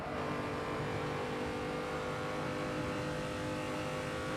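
A BMW M235i engine drones loud and steady at high revs on the Nordschleife in the racing game Assetto Corsa, a continuous close mechanical whine without pauses or voices.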